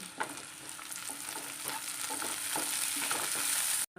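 Onions sautéing in a pan for mango curry give a steady close sizzle with stirring scrapes throughout, cutting off abruptly near the end.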